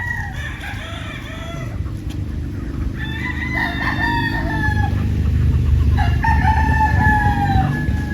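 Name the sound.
white kelso gamefowl roosters crowing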